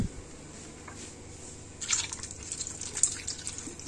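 Water poured into a pressure cooker for a gourd and meat curry makes a soft, close trickle and splash, with faint drips; no one talks.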